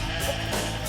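A goat on a suburban farm gives a single loud, close, wavering bleat that fills the whole short moment, with no talking.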